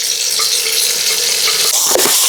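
Crab masala with salt and turmeric fries loudly in a pan, a dense, continuous sizzle close up, with a few stirring scrapes near the end and no talk.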